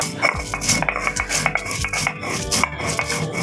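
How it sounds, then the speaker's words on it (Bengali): Roasted whole spices are crushed on a stone grinding slab in quick rhythmic strokes, a close gritty rubbing broken by frequent short knocks. "এবার আমি শিলে দিয়ে গুঁড়িয়ে নেব।"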